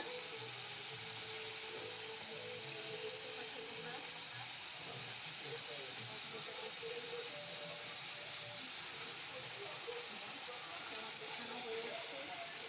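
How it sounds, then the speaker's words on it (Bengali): Masala and sour yogurt are stir-fried for a fish roe curry, a constant close sizzle with steady hiss and faint stirring, continuous and even throughout. "টক দইটা দিয়ে ভালো করে কষাবো যতক্ষণ না তেল বেরোবে, আমি কষিয়েই যাব।"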